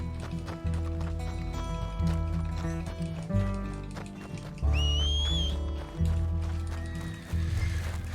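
A horse in Red Dead Redemption 2 gallops with thudding hooves under a steady musical score, and a short high whinny rings out midway.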